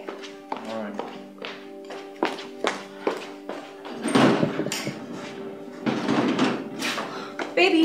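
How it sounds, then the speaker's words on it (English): Someone tries a locked door in a Nollywood drama scene: a series of sharp taps, rattles and thunks from the door and handle, with muffled talking around them. "the door is locked"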